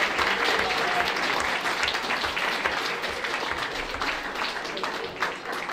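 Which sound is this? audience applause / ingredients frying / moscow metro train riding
audience applause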